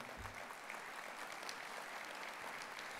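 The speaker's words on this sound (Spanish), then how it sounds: "Un lindo aplauso para ese Paraguay que tanto tengo en el alma." Audience applause fills a hall at a book presentation following a speech, a steady, dense wash of many hands clapping that holds for about three seconds with no talk over it.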